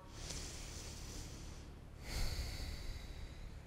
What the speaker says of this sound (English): Let's just take a couple deep breaths in and out.